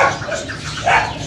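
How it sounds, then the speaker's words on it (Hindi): A poodle barks at an animal market in Quetta: loud, close yaps and whines over busy crowd and market noise. "ये पूडल भाई, पूडल कुत्ता है"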